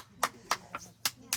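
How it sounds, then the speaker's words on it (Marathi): Hand claps ring out several times at a brisk, slightly uneven pace, close and sharp, amid a quiet home setting. "टाळ्या वाजवा अक्का"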